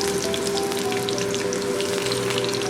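Chopped onion greens frying in a pan, a continuous even crackling sizzle that holds steady and fairly loud with no voices.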